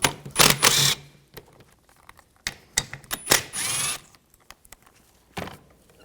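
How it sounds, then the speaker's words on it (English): A 10mm socket ratchet takes out two bolts during a radiator and condenser fan assembly replacement on a 2004-2009 Audi A4. Sharp, close ratcheting clicks come in short irregular bursts, separated by quiet gaps. "Using a 10mm socket, take these two bolts out."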